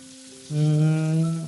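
Food frying in a pan during home cooking, a steady close sizzle that starts abruptly after a short quiet lead-in and holds loud with a faint tonal hum underneath.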